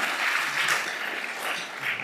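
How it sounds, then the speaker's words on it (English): An audience claps steadily and evenly through a university first-year orientation welcome, with no talk over it. "Go ahead, we can clap for that"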